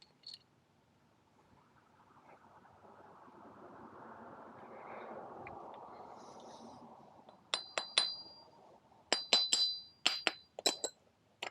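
Work on removing the cylinder head from a KX 112 motorcycle brings a soft, low rumble, then a run of sharp metallic clinks and taps from parts and tools, close and growing busier toward the end.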